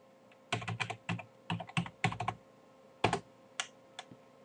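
Someone types a username and password on a computer keyboard, with quick irregular clusters of close keystrokes and short pauses in a quiet room.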